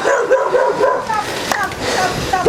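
A small dog yips and barks in short bursts close by, with a person talking over and around it in a lively outdoor visit.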